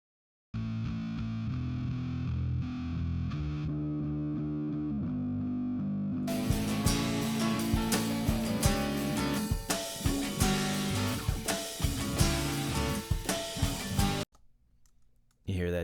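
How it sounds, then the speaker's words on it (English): A MIDI bass track in a mix is played back as an A/B comparison, switched between with and without a low-shelf EQ below 122 Hz. Thick, sustained tones change in texture partway through, then stop abruptly. "Without this EQ, this bass sounds muddy."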